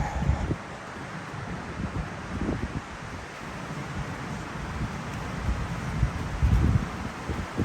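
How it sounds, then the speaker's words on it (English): Loud gusting wind on a hiking trail by the Deschutes River, a continuous roar with microphone buffeting that swells and eases, rising stronger toward the end. "Getting some loud wind picking up."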